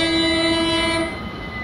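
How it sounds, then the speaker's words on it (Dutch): A train horn in the Train Simulator 2022 video game blares one long, steady note for about a second through Utrecht, then cuts off, leaving the low rumble of the moving train. "Even lekker toeteren door Utrecht heen."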